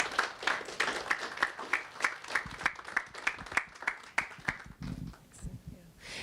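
Lecture-hall audience at a university president's lecture gives a round of applause, with dense clapping in steady pulses that fades out toward the end as a voice begins speaking.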